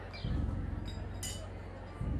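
Glasses touch once in a dinner toast, a single bright ringing clink midway, with low voices murmuring around it.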